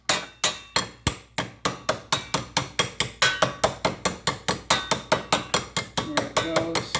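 A frozen generator bearing is tapped into a heated housing with roughly thirty sharp, ringing metallic hammer taps in a steady, quick rhythm, each one close and distinct. No one speaks.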